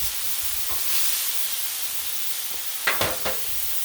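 Smash burgers searing on a Blackstone griddle, a steady broad hiss of frying meat with a couple of sharper spits and pops near the end, close and with no talking.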